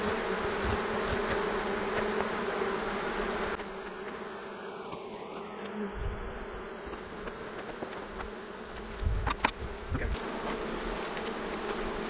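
Honey bees buzz in a dense, steady swarm drone while hives are being split and cleaned, with occasional louder passes of individual bees near the microphone over the continuous hum.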